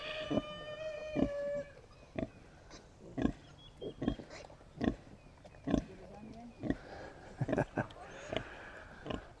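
Pigs on a farm, moved near new sow farrowing pens, give short, close grunts and squeals in irregular bursts across the whole stretch, with a person talking softly in the background.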